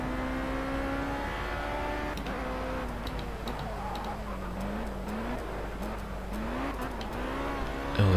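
A race car engine in Project CARS drones steadily throughout, its pitch rising and dipping as the revs change, with faint ticking clicks over the continuous hum and no talking.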